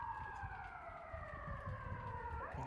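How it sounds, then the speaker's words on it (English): Sirens wail faintly in the distance, their tones sliding slowly downward in a long sweep over low background rumble and rain, with no voices. "The sirens are going."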